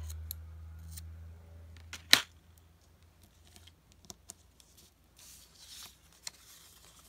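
Faint, sparse snips and clicks of scissors cutting craft material on a quiet tabletop, with one sharper cut standing out early and scattered light handling noises afterward.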